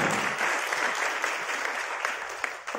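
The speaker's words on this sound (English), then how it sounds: "I think this deserves a round of applause." Audience applause at a Volkswagen Group Taiwan annual media dinner, a sustained burst of clapping from a seated crowd in a banquet room that fades slightly at the end.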